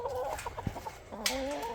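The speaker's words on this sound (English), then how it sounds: "these are the Delaware broilers" Delaware broiler chickens in a cage cluck and murmur nearby, a few soft clucks followed by a longer rising call, over a low background hum.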